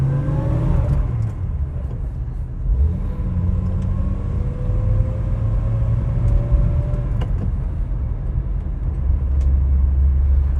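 A 1959 Vauxhall Velox PA accelerates hard along the road, its engine rumbling loudly and rising in pitch through the gears, with steady close-up drone and no talking.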